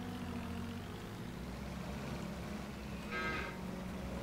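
A cow moos once in a farming video game set in Thuringia, a short tonal call rising out of a steady low hum of engines and farm machinery.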